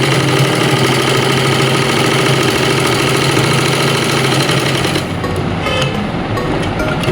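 An electric sewing machine runs steadily, stitching across a trouser pocket. Its motor hum and needle rattle are continuous and close, and they ease slightly near the end.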